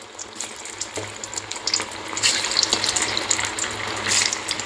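Banana flower kola urundai balls frying in hot oil, a dense steady hiss and bubbling crackle that swells slightly partway through, close and continuous with no talking.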